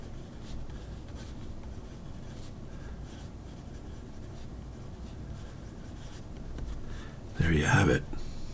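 Montblanc 146-size mechanical pencil with thick 0.9 lead scratching across paper in soft repeated strokes close by, then a brief louder rustle near the end.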